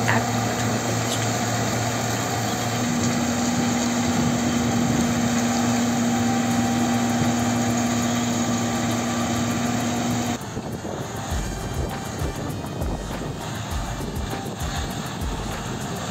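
The engine of a John Deere 1450 combine harvester runs with a steady, droning hum and a faint tonal whine, then the sound shifts abruptly to a rougher, lower rumble toward the end.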